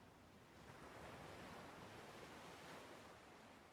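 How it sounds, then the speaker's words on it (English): Ocean waves in the fishing game Dredge: a faint, steady wash of surf and wind-like rushing that swells gently and recedes, continuous with no voices. "as long as somebody can hear the ocean swishing and swashing"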